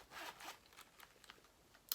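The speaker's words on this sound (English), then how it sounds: "So let's get into the first zipper." A zipper pulled open on a LUG Splits wallet, quick close rasping strokes in a few short bursts ending with a sharp click, no voices.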